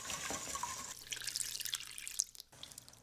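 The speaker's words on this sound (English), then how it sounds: "now I put all this fabulous custard on" Custard poured over layered croissants in a baking dish: a continuous close wet pouring and trickling that fades and thins out toward the end.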